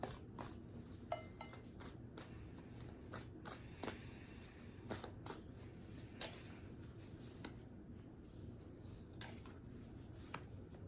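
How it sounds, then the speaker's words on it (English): Tarot cards are shuffled and pulled close up, with quiet, repeated papery flicks and snaps over a soft rustling background, faint and with no talk. "And then we will also clarify after I pull all the cards."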